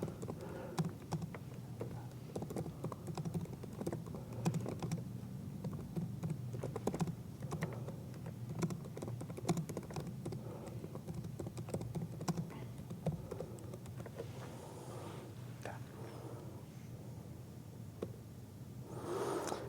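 Computer keyboard being typed on during a conference security talk, soft irregular clicks and taps running continuously at low level over a room hum, with a brief pause near the end.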